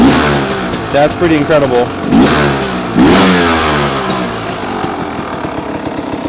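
A 2026 Beta 300 Race Edition dirt bike engine runs close by, idling with a buzzy two-stroke note that lifts in a few short blips before settling, while someone talks over it.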